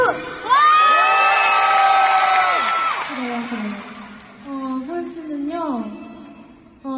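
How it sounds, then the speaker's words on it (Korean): A concert crowd at a world tour show cheers and screams in high, sustained shouts, loud at first and then easing, with scattered whoops rising again near the end. "저 일단 박수!"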